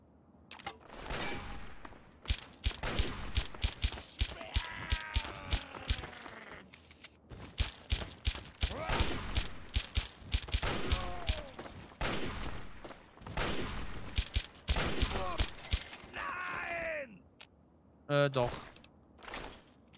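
Gunfire in Fallout 3: rapid bursts and single shots crack repeatedly over twenty seconds, with voices heard in between.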